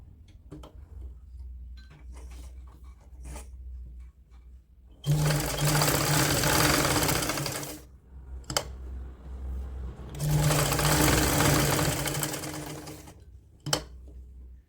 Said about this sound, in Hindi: तो अब हम ऊपर वाले पार्ट की सिलाई कर लेते हैं।